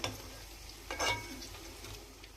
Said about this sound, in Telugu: ఇప్పుడు దీన్ని అయితే దగ్గరికి ఫ్రై చేస్తా. లేత ఉందిగా తొందరగా ఉడికిపోతుంది.